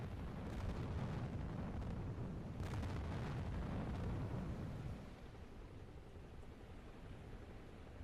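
In the submarine game Uboat, a torpedoed ship explodes and burns with a broad rumbling roar and bursts of crackling blasts for about five seconds, then fades to a quieter lingering rumble.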